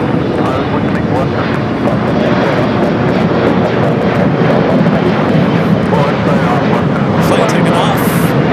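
An airliner takes off at LAX with a loud, continuous jet roar close by. Spoken commentary runs over the noise, and a brief sharper hiss rises near the end.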